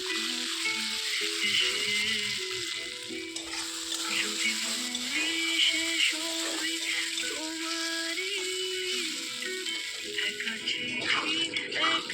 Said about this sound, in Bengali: ডিমগুলো আমি প্রথমে সেদ্ধ করে দিকে আমি হালকা একটু ভেজে নেব